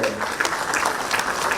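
Brief burst of sustained crowd applause honouring Jharkhand's Chief Minister at an administrative service association event, many hands clapping at once in a loud, even wash.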